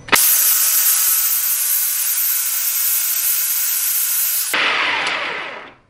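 A food processor whirs loud and steady through cubed butter for homemade cheesy dog crackers, the motor running continuously for about four and a half seconds before cutting off into a brief winding-down rattle.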